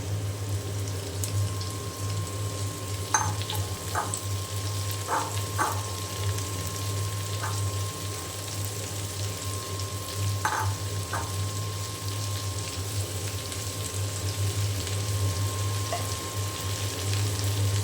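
Quiet, continuous sizzling of cut okra frying in oil, with a low steady hum and a few soft clicks of a utensil against the pan.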